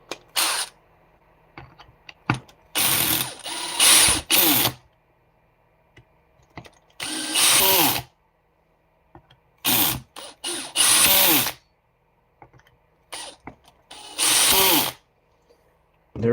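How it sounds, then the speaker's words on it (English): A hand driver tightens screws on an RC car servo mount, short bursts of ratcheting mechanical clicks repeated in several close, distinct runs separated by quiet pauses. "now what I'm doing with the hand driver is just making sure, you know, the torque is the same all the way around"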